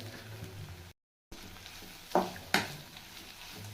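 Lightly sautéed onions are tossed with grated coconut in a pan, two distinct scraping stirs standing out over a low frying hiss, close by, with a brief silent break early on.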